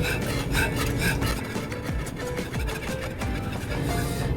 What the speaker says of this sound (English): now we want to add in the cream. And we just want to whisk that bad boy.